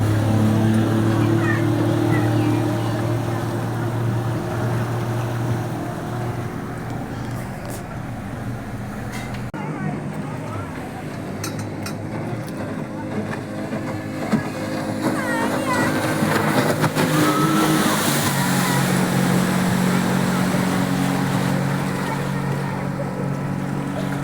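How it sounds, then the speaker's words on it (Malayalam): A speedboat motor drones steadily on the Kuttanad backwaters in Kerala, a continuous low engine hum with water rushing against the hull, heard from aboard with people talking over it. "നമ്മളെ കുട്ടികളെ സ്പീഡ് ബോട്ടിൽ പോവാണ്"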